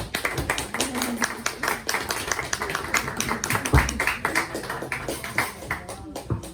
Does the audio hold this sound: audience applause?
yes